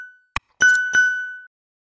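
A notification bell sound effect opens with a brief click, then rings two bright, clear dings that hang and fade out together before silence.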